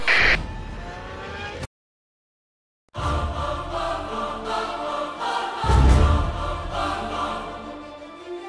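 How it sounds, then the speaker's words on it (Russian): Car speeding along a track in the Need For Speed racing game, a loud roaring engine with a sudden gap of silence before the race sound resumes, rising to a heavier rumble near the end. "Машина на большой скорости мчится по 9-й трассе."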